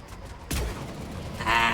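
A single sharp gunshot rings out in Mass Effect 3: Legendary Edition over quiet game ambience, followed by a decaying tail and a brighter metallic burst near the end.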